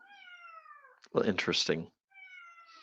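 A cat meows in long, drawn-out cries at a moderate distance, once before and once after a short burst of nearby talk. The cat is disappointed at having no child around to spill catnip.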